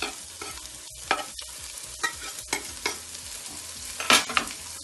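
Chopped onion, garlic and fresh parsley sauté in a pan, giving a steady soft sizzle broken by several clattering stirs of a utensil, close and moderately loud, with no talking.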